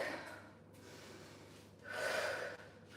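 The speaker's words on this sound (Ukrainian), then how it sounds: "Вдих." A deep, loud inhale during a full-body home workout, heard alone as one long breath swelling in the middle of the clip after quieter breathing, with a low steady hum underneath.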